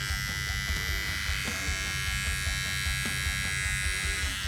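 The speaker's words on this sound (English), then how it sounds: "use the corner of my outliner and just make a crescent moon shape onto there" Electric hair clippers buzz steadily up close while outlining a hairline in a barbershop, a constant motor hum with small shifts as the blade works along the edge, under a voice.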